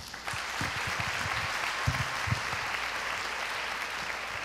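An audience applauding at the close of a cardiology lecture, a dense sustained wash of many hands clapping from start to finish, with a few louder individual claps near the front early on.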